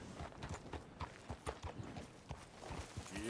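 Horse hooves clip-clopping at a steady walking rhythm in the Red Dead Redemption II game world, close and fairly clear, with a faint voice near the end.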